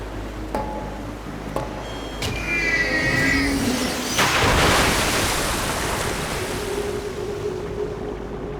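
Ocean waves and rushing water play in the video game Metal Gear Solid 2, a broad surging wash that builds midway and stays steady, with a few short electronic tones early on.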